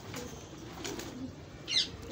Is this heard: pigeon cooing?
yes